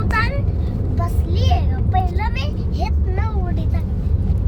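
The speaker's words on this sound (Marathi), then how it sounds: "पप्पा गाडी चालवतात" A car driven by a family's father hums along steadily with a low engine rumble, and voices talk over it the whole time.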